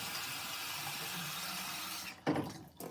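Water running from a tap to fill a quail's water container, a soft steady rushing pour that stops near the end, followed by a couple of light knocks, quiet and close with no talk.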